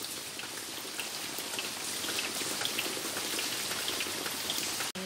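Heavy rain falling just outside an open window indoors, making a loud, dense, unbroken patter and hiss that lasts throughout.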